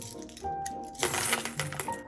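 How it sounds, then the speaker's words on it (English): Pennies and silver coins tip out of a container and clatter into a savings container in a short jangling rush, with a quieter clink just before the main pour. "Into Mr. Fernando is gonna go all of the pennies"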